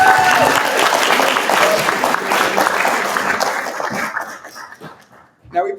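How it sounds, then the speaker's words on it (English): A crowd at a university entrepreneurs club demo day event claps loudly and continuously, with voices mixed in, before the clapping thins out near the end. "So a big, big, big round of applause for all of them as well."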